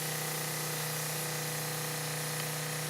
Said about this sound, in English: we're going to turn the sprayer on